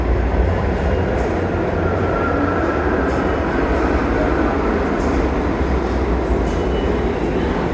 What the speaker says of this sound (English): That train right there is the 6th train, that's the IRT